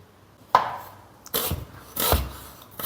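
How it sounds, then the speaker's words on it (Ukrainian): A knife chops onion into half rings on a cutting board, three or four distinct close thuds spaced unevenly apart, with no speech. "Цибулю нарізаю півкільцями."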